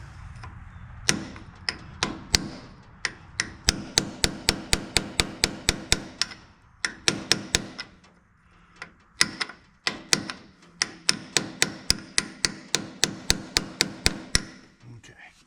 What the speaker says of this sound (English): Let me grab a blunt chisel and see if I can chisel it out.